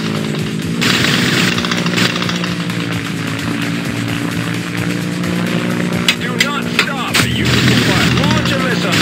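Missiles and gunfire in a helicopter combat video game: a sustained loud roar with a run of sharp bursts and impacts toward the end.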